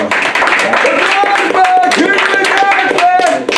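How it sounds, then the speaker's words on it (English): An audience breaks into a sustained round of applause, dense clapping that stays loud and continuous, with a voice and tonal music sounding through it. "let's give them a round of applause"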